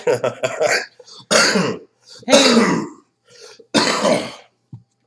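Several harsh, loud coughs come in separate bursts with pauses between, close to the listener, and a brief spoken word at the start.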